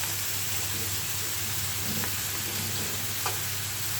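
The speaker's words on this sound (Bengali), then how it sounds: "শাকটা নাড়াচাড়া করে দিচ্ছি" Small-leaved greens being stirred and fried in a pan make a continuous soft sizzle with a few light spatula scrapes, close and steady, with no talking.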